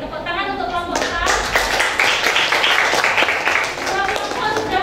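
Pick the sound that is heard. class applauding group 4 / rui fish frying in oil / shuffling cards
class applauding group 4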